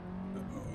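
A Haval car's engine drones faintly and steadily from inside the cabin, a low continuous hum over a very short stretch.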